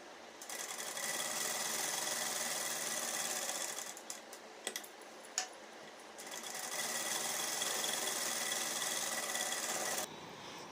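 Continuous whirring of a sewing machine stitching baby suit fabric, running steadily, pausing briefly midway with a few clicks, then resuming until a short stop near the end.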